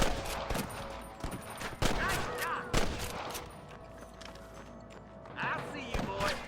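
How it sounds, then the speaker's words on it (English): Gunfire in the Red Dead Redemption video game on PS5: repeated sharp shots and bursts ring out, some near and some farther off, under ongoing in-game talk and shouting. "I can hear more gunshots"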